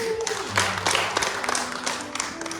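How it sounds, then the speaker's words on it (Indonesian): Congregation applauding at a women's church worship service, a moderate wash of clapping from a crowd over sustained background music tones, with some voices mixed in. "Tepuk tangan untuk Tuhan."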